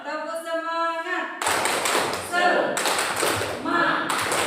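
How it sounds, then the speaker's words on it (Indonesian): Group performing a rhythmic Indonesian spirit clap at a school teacher training session, with bursts of patterned clapping following a leader's spoken call, chanting voices mixed in. "Tepuk semangat."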